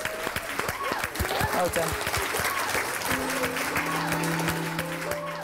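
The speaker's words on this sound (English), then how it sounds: "Massive round of applause, guys." A year group of school pupils claps together after a talent show act, sustained dense applause with a voice briefly speaking over it.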